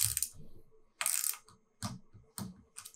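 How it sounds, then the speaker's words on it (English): A torque wrench ratchets as it tightens the clamp bolts on a Yoshimura motorcycle steering stem, giving four or five short, close bursts of rapid metallic clicking with brief pauses between them. "I will work them up to the full torque spec of 5 Newton meters"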